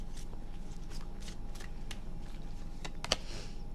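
A deck of tarot cards is shuffled by hand in a quiet room, giving faint, quick papery riffles and taps with a couple of sharper snaps near the end.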